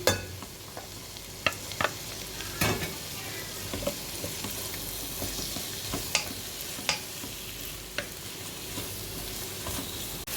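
Chopped tomatoes fry in a pan for a coconut-based Kerala chicken curry, a soft continuous sizzle broken by sharp scraping clicks of the spoon stirring at irregular intervals, with no voice.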